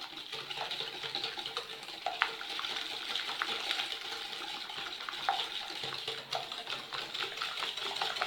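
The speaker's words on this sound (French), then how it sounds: "On va mélanger les œufs avec le sucre" Eggs are whisked with sugar and vanilla sugar in a bowl, a steady close run of quick scraping, clicking strokes that continues evenly without talk.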